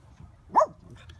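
Cairn terrier barks once in a park with fallen leaves, a single sharp yip-like bark standing out clearly over quiet outdoor background.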